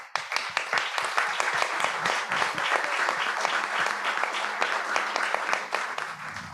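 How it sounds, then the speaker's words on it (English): A conference audience at an international forum on transatlantic cooperation gives the panelists a steady round of applause, many hands clapping close and evenly, fading slightly at the end. "So please, for the panelists, thank you once again. Give them applause again."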